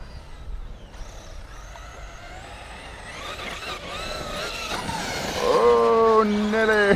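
A Thunder Tiger e-MTA G2 6s electric RC truck revs hard and whines while it spins and slides on loose ground, its motor pitch climbing steadily and then peaking, with a voice talking faintly over the outdoor noise.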